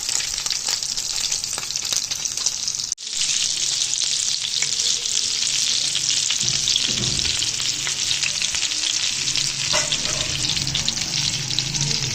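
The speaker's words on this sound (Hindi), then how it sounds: "जितना ही ऐसा ऐसा फ्राई होंगे उतनी ज़्यादा टेस्ट में अच्छे बनेंगे" Fish kebabs frying in oil in a pan, a loud, steady crackling sizzle that carries on throughout with only a momentary break, punctuated by occasional low scrapes and bubbling, no talking.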